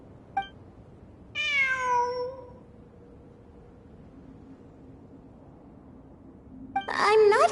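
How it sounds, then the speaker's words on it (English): A cat in the video game Genshin Impact gives one clear rising-and-falling meow, then after a quiet stretch a second meow starts and is cut off at the end. "It really is a cat."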